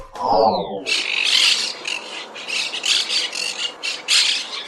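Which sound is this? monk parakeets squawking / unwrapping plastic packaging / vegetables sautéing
monk parakeets squawking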